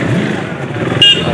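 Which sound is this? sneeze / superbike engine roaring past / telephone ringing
superbike engine roaring past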